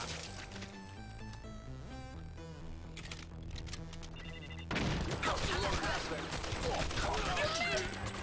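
Rapid gunshots fired in a row in the video game Not a Hero, a dense burst of crackling shots over background game music, with shooting intensifying in the second half.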